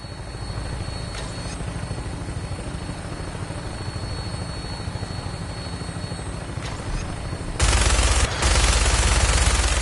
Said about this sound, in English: That minigun in front of you is loaded and ready to fire.